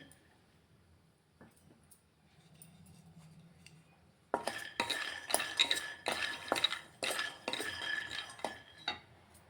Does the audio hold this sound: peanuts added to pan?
yes